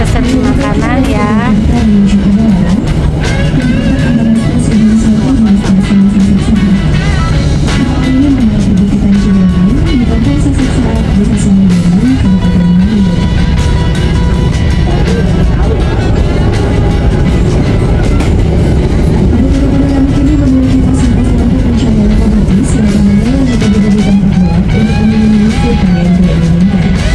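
Inside a panoramic passenger train in Indonesia, a loud steady rumble of the moving carriage fills the cabin, with rhythmic rail clickety-clack and a droning motor tone throughout.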